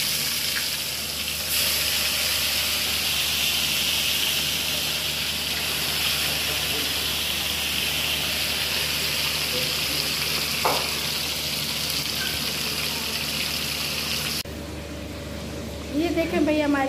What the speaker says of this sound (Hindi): अभी हम मछली फ्राई कर रहे हैं